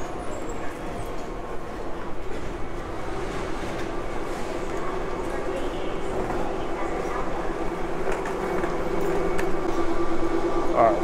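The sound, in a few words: airport plane train arriving at Atlanta Airport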